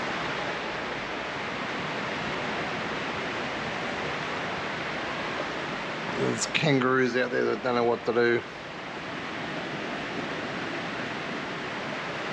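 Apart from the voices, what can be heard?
heavy rainstorm pouring outside motorhome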